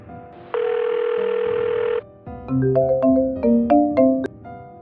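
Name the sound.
telephone call tone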